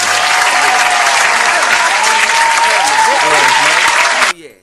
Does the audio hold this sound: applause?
yes